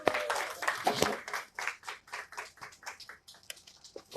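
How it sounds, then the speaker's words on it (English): Audience applause breaks out for a volunteer joining a presenter on stage, a dense burst of many hands clapping that thins into scattered, slower claps as it fades. "Please give applause to Ara."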